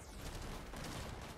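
Rapid bursts of gunfire from the video game Fortnite crackle in a dense, continuous fusillade across a brief moment, loud and close with no speech over it.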